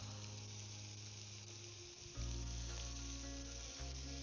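Crayfish cooking in plenty of butter in a pan, a faint even sizzle under a low steady hum that grows louder halfway through.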